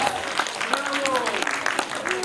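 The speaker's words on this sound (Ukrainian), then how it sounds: "Оплески, оплески підтримуємо." Audience applause rolls through a hall at a Ukrainian song concert, a steady clapping wash with voices talking and calling over it near the microphone.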